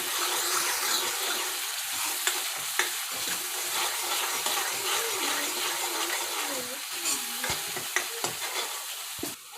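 Spiced masala with red chilli powder sizzles in hot oil for an egg curry, a steady close frying hiss with occasional clicks of stirring and no talk.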